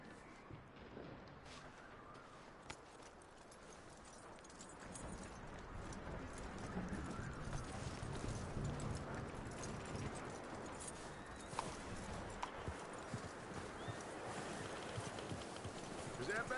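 Hooves of a horse clip-clop steadily in a PS4 video game, a quiet continuous trotting rhythm over a noisy background with occasional voices.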